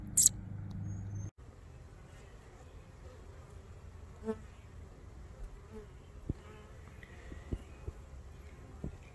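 Honeybees buzz steadily around their hive on an evening in York County, making a continuous soft hum with occasional louder passes of single bees near the listener.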